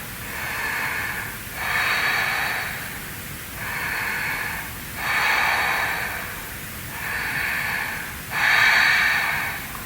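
Slow, deep yoga breaths repeat six times in a steady rhythm, each a long airy inhale or exhale through the nose, close and clear with short pauses between.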